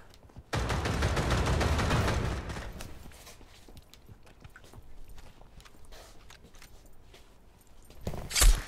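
In the VR shooting game Pavlov, a loud burst of rapid gunfire rattles for about two seconds. Quieter scattered clatter and thuds follow, then a final sharp shot lands near the end.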